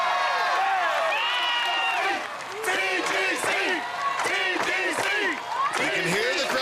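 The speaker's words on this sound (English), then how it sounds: "You can hear the crowd chanting" Crowd at an American Ninja Warrior Dallas final chanting in rhythmic bursts, loud and close, with a commentator talking over the noise throughout.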